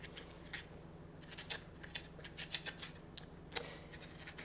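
A spoon scrapes the seeds and slimy pulp out of a halved butternut squash in a string of short, crisp rasping strokes, close and fairly quiet, with no talking.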